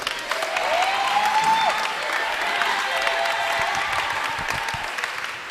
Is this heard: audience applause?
yes